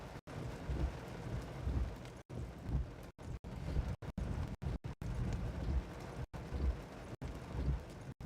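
Rain falls during a storm in northeast Kansas and northwest Missouri, making a steady patter on a nearby surface with low rumbling beneath it. The sound is broken by several brief dropouts, and no one speaks.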